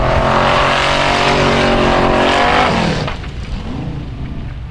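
A Formula Offroad race car engine at Stapafell, Iceland, roars loud and sustained at high revs for about three seconds, then drops off into a lower, receding drone.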